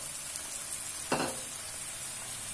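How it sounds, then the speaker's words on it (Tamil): Cabbage, capsicum, carrot and beans sautéing in oil for paneer fried rice, a soft steady sizzle with one brief stir or scrape of the vegetables in the pan. "இதெல்லாம் சேர்த்து கொஞ்ச நேரம் நல்லா எண்ணெயில் வதக்கலங்க."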